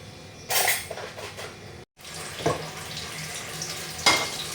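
Paneer shallow frying in a little oil, a soft continuous sizzle close by, broken by clinks and scrapes of a utensil against the pan, with a brief silent gap midway.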